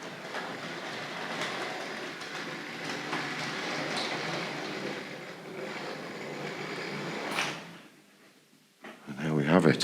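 Tri-ang Hornby model locomotive hauling LNER coaches along the track, a steady light rattling whir for several seconds that cuts off suddenly, followed by someone talking.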